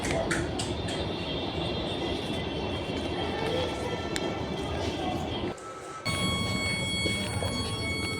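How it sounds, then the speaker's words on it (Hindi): Trains rumble steadily inside a metro station, a dense continuous roar with metallic ringing tones, cutting out briefly before resuming with high whining overtones. "फिर मैं मेट्रो स्टेशन के अंदर चली गई।"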